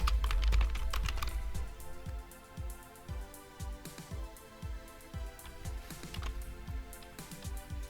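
Typing on a computer keyboard, a close, steady run of key clicks in an uneven rhythm with no talk.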